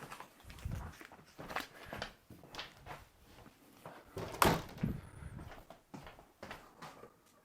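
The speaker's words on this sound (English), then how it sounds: "we got a new microwave. That's how it sounds when you open and close the door." The door of a new microwave opens and closes, giving a series of quiet clicks, latch snaps and soft thuds in an uneven rhythm against a quiet room.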